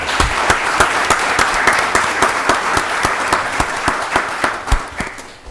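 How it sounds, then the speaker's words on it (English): Sustained applause from a crowd, many hands clapping steadily and fairly loud, slowly thinning out toward the end. "Let's give them another round of applause."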